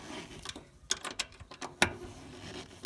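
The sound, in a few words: ratchet tightening fuel pump cover bolts on Subaru Legacy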